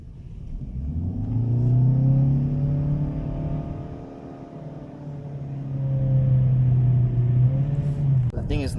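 A 2019 Ford Fusion Hybrid Titanium with a CVT transmission accelerates steadily, heard from inside the cabin. A low engine drone rises and falls in pitch over several seconds, and occasional faint speech sits beneath the hum.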